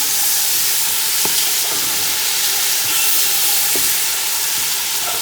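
Chicken browning in a pot for Punjabi yakhni pulao, giving a steady, close, loud sizzle with faint clicks of stirring throughout.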